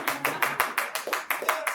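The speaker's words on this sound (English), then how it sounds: "we also give them a round of applause" Brisk applause at a hospital awards show, about a dozen sharp, evenly spaced claps across under two seconds, close and moderately loud with no voices over them.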